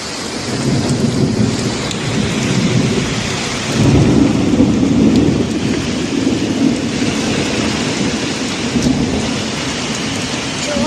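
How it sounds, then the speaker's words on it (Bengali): Heavy rain pours steadily with deep thunder rumbling through it, one louder roll swelling midway. "বৃষ্টির জন্য বাইরে বেরোতে পারছি"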